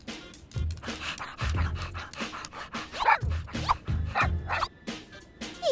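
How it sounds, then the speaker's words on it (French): A small cartoon dog barks, yips and pants in short repeated bursts, fairly close and alone, with quick panting breaths between the barks. "Il est trop mignon, son petit toutou."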